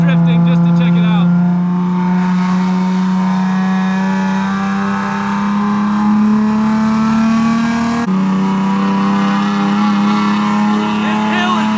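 A loud Nissan Z engine driving a track, holding a steady droning note that climbs slightly in pitch, briefly drops and then resumes, close and continuous throughout.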